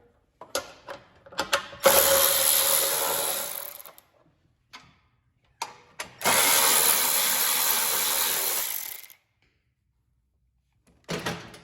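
A bolt is removed from the carburetor of a Craftsman 31AM6CSG793 snow thrower with a ratchet: a few sharp clicks, then two long stretches of loud, buzzing ratcheting close by, separated by a pause, ending with a brief final burst.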